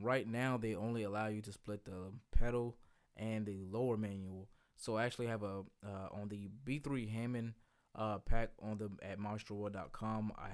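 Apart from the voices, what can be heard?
No distinct noise like a dog, phone or traffic.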